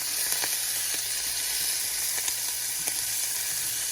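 Parmesan-crusted shrimp wraps fry in a pan, a steady close sizzle and hiss with a few faint clicks and taps over it, and no talking.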